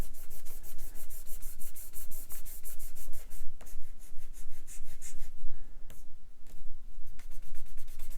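An art gum eraser scrubs graphite lines off a pencil drawing in rapid, rhythmic back-and-forth strokes, close and steady, with a couple of brief pauses.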